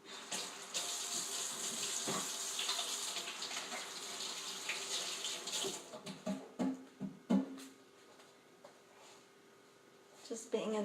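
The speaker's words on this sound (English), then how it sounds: "just gonna wash my hands again" Tap water running into a sink while hands are washed, a steady close gush that breaks into splashes near the end, with a person talking over it.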